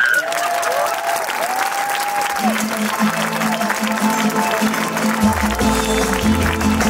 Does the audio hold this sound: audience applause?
yes